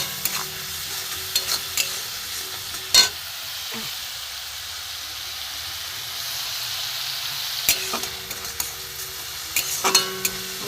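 Spices for an egg and cabbage curry frying on low heat in a pan, a steady quiet sizzle with occasional scraping and tapping spatula strokes, close by, no talking.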